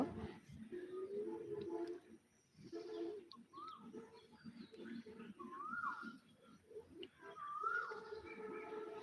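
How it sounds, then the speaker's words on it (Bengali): Rising whistled calls of an Asian koel repeat a few times at a distance in a village, mixed with other birds cooing and chirping in the background. "বসন্তের কোকিল এখনো ডাকছে"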